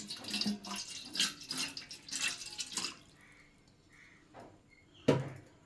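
Water splashes and trickles into a vessel in uneven bursts for a few seconds, then quiet clinks and a final sharp knock close by, as water is added to make sugar syrup for kaja sweets.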